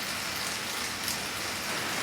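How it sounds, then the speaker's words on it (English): Heavy rain pours steadily outside, a dense, even hiss of drops on surfaces that continues without a break throughout. "And it's raining, so"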